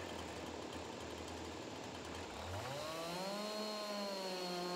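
A chainsaw in a farming video game starts up partway through, its engine winding up from a low idle into a higher, steady whine that holds loud and close over the faint background ambience.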